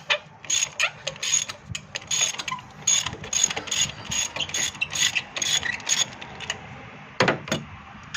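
A socket ratchet on an extension clicks in rapid, uneven bursts while it works a tight bolt loose. The close mechanical clatter continues steadily throughout with no talking.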